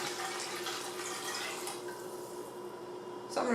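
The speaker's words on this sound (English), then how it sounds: "And now we just have to add our water." Water pours steadily from a measuring cup into a soup pot of sausage and kale broth, a soft continuous splashing that ends with a brighter splash at the finish.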